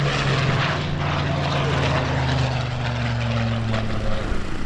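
A propeller-driven warplane, once used as a fighter bomber, maritime strike and photo reconnaissance aircraft and as a transport, flies over the 2019 EAA AirVenture airshow at Oshkosh, its engines a loud, steady, close droning hum that runs unbroken throughout.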